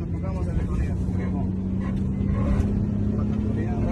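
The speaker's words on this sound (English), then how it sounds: "Oh my god, the car sounds so bad." A minivan's rough-running engine drones during a police chase, with a steady low growl and a humming tone heard from inside the vehicle while people talk over it.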